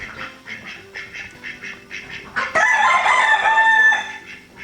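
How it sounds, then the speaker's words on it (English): Hens cluck and chatter in short bursts, then a rooster lets out a long, loud crow near the end, with more fowl calling in the background, from a flock of Icelandic and mixed-breed chickens. "This is our Icelandic flock, and then just our mutt chickens."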